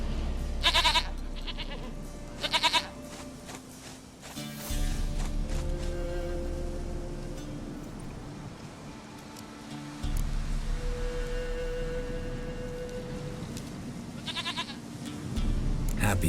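Goat in the video game The Witcher 3 letting out several separate wavering bleats spread across the stretch, set against low rumbling game ambience and music.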